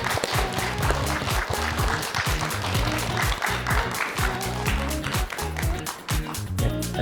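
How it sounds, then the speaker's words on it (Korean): A studio audience on a Korean morning talk show claps to welcome a speaker, a loud, dense and sustained round of applause close to the microphone that continues without pause. "우리 조세현 처방사님 큰 박수로 모셔보겠습니다."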